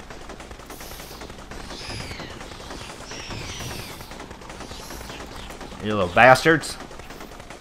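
Assault rifle fire in the early-access sci-fi shooter Dropship Down, against waves of alien bugs: a short, loud burst rises out of a steady bed of game noise near the end, while someone talks over it.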